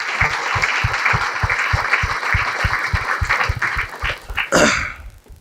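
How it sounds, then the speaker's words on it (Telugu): An audience claps loudly together in a fast, rhythmic beat that holds steady, then breaks into a final burst and fades out. "ఒకసారి గట్టి క్లాప్స్ కొడదాం"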